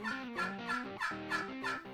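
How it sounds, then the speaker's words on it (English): A custom turkey call gives a run of rhythmic, slightly raspy yelps, about six notes in quick succession, close and clear. "We learn to yelp with Last Strut custom turkey calls."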